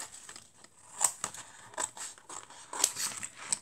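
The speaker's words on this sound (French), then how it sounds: "Et je vais le découper." Scissors snip through stiff scrapbook paper in a series of crisp, irregular cuts with small crinkles, close and fairly quiet with no talking.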